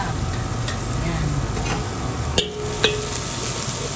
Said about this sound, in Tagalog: nagisa na ako ng sibuyas, bawang, at maglalagay na ako ng paminta